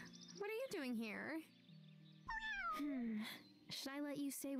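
A cat meows repeatedly in the video game Wylde Flowers, several drawn-out, rising and falling cries heard up close, with a short gap between them and a quieter tone underneath.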